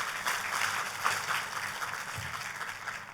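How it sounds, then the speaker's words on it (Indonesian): Church congregation claps during a sermon, a soft, steady wash of distant applause with a constant hum underneath. "kalau mau tepuk tangan yang paling meriah"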